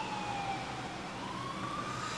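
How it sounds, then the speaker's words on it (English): Sirens from emergency vehicles wail outside in the distance, a steady faint rising and falling tone over a constant hum of city traffic. "Sirens going off,"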